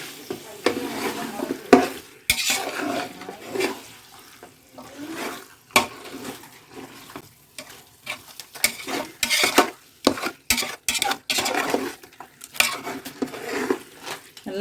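Chicken biryani masala is stirred in a pot, a spoon scraping and clanking against metal in irregular bursts over a soft sizzle, close and fairly loud, with no talking.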